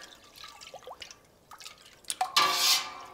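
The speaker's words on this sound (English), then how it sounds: "Now that gets added to the milk." Diluted calcium chloride poured into a large pot of milk for cheesemaking, starting with a few faint drips and small splashes, then a louder close pour in the last second.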